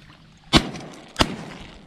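Two shotgun shots fired during a youth waterfowl hunt, sharp loud blasts about two-thirds of a second apart, each followed by a short rolling echo outdoors.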